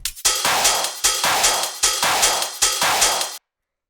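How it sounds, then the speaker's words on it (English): Ravey hardtrance-style techno drum loop with a driving hi-hat layer, six loud, evenly spaced hits with bright sizzling tops pounding steadily for about three seconds before cutting to silence. "So honestly, pretty straightforward, ravey sort of techno drums."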